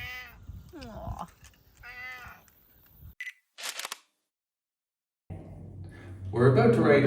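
A cat meows several times in short rising calls over the first few seconds, close by. A brief silence follows, then people talk near the end.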